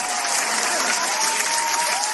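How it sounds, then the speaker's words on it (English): Studio audience applause on a talk show, a dense, steady wash of clapping from a crowd, loud and sustained throughout with no talking over it. "A round of applause for that"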